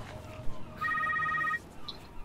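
A phone rings in the video game The Secret World, a short, bright electronic trill lasting under a second, fairly quiet over soft ambient game background.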